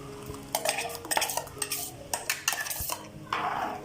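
A spoon stirs ground coconut paste into a bitter gourd curry in a pot, producing quick repeated metallic scrapes and clinks against the vessel, close and fairly loud, with no talking.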